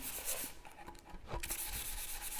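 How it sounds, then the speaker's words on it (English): Soft, brief rubbing strokes of sandpaper by hand across a milk-painted wooden bedside table, a few light scratchy passes, close and quiet with no talking. "So I've just given that a really light sand."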